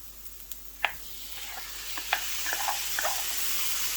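Chopped Roma tomatoes added to softened onions and green chilies in a hot pan, giving a faint steady sizzle with a few soft clinks and stirring scrapes, close and quiet, no talk.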